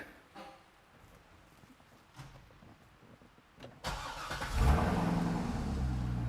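A Chevrolet Corvette engine with low power cranks and fires up abruptly, then settles into a loud, steady idle rumble after a few seconds of quiet.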